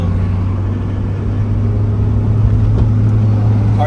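A stock 1995 Mitsubishi Cyborg hatchback with a 1.6L MIVEC engine drones steadily from inside the cabin during city driving, a loud, even hum with a faint rise toward the end.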